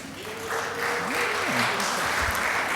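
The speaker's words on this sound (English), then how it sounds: "a round of applause as well" Audience applause at a Board of Deputies board meeting, welcoming new deputies: a steady, full round of clapping from a room of people lasting the whole moment, with a faint tone and murmur running underneath.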